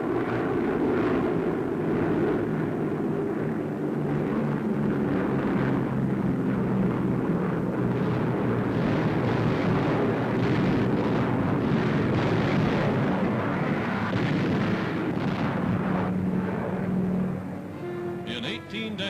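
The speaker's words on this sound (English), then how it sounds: "Allied bombers swarm across the Mediterranean, softening Italian island strongholds with overwhelming air power" Heavy, continuous rumbling explosions from Allied aerial bombing of Italian island strongholds in the Mediterranean, a dense roaring barrage with droning aircraft, sustained and loud throughout before easing near the end.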